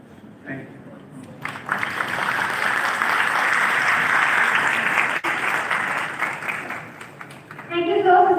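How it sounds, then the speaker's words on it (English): An audience at a youth speaker forum at IIT Delhi breaks into sustained applause after a speech, a dense wash of many hands clapping that swells and holds steady, with a short burst of voices near the end. "Let us all give him a round of applause, big round of applause, once again."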